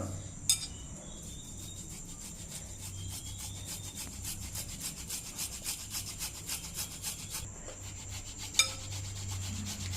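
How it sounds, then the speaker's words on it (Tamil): Boiled, peeled potatoes are grated by hand on a kitchen grater, giving a steady rhythmic rasping scrape with a few sharp clinks, close and moderately quiet, with no talking. "இதை நம்ம இந்த மாதிரி காய் செய்வ இடத்துல துருவி எடுத்துக்கலாம்"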